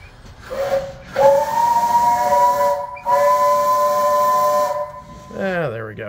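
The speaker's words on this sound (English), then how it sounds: "that's the whistle that was in a box in the firebox. So that is that engine's original whistle" An engine's original steam whistle blows in two long loud blasts with a harmonic tone and hissing steam, separated by a brief gap, followed by a short falling chirp as the steam cuts off.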